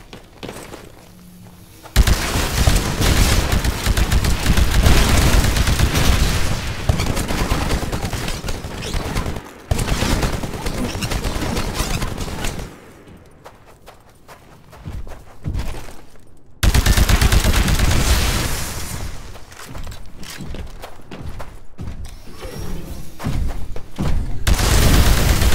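Heavy weapon fire and explosive booms from Titanfall combat against a Titan, loud sustained bursts filling long stretches with brief lulls between volleys.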